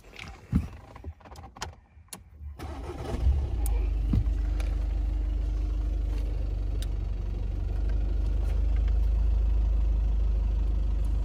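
A 2016 VW Passat B8 engine cranks and catches after some clicks and handling noises, then settles into a steady, low, even idle that continues to the end.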